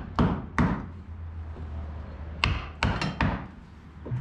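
Sharp metal-on-metal hammer blows on a bolt of a 2000 Toyota Corolla: two strikes, a pause, then a quick run of about four more, each close and loud, with no talking.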